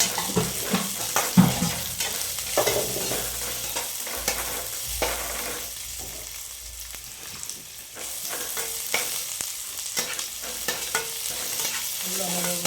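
Onions sauté in a pan for sorakkai paruppu kootu, with a continuous close sizzle broken by repeated scraping stirs of a spoon against the pan and occasional clinks, no voices.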